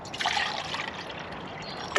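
Water trickles steadily from a container into a camping stove pot outdoors, a continuous light liquid pour with a brief clatter at the end.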